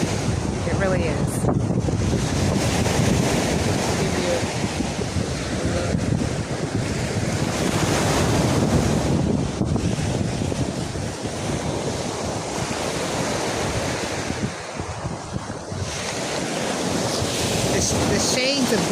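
Steady surf rolls onto a quiet stretch of beach at Ocean Cay Marine Reserve, a continuous washing roar mixed with gusty wind buffeting the microphone, with no pauses throughout.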